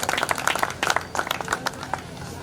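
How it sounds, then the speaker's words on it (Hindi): Applause from a seated audience welcoming a speaker at the inauguration of a newspaper office in Chilla village, East Delhi, with dense, uneven clapping sustained steadily throughout. "ओमवीर सिंह आर्य जी, जोरदार तालियों से स्वागत।"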